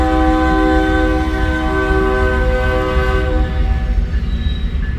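A Union Pacific freight train on the Blair and Fremont subdivisions sounds a loud, sustained multi-tone horn over heavy rumbling rail noise, the horn fading after about three seconds as the rumble continues.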